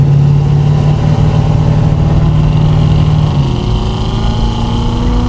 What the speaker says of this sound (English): we can go ahead and open up the valves. That is a lot louder than it was before. So now you have a real nice rumble to it.